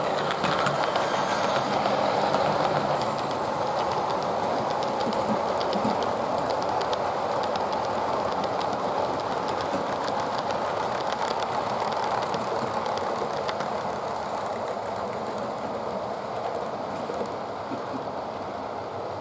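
A Portescap-motored Southeastern Finecast A3 model locomotive runs with a steady, even rushing hiss and soft rumble that holds at a constant level and eases slightly toward the end, with no one talking.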